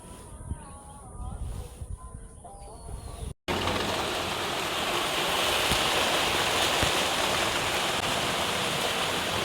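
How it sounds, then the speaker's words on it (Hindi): Steady, dense rain hisses loud and close after a brief spell of talk and quieter ambience, carrying on without a break once it starts. "देखो अभी भी तो बारिश चालू ही चालू।"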